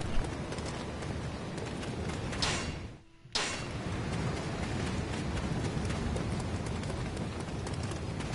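A horse gallops in Dynasty Warriors 9, a steady, dense drumming of hooves mixed with a windy sandstorm roar, cut briefly by a sudden near-silent gap before the galloping resumes.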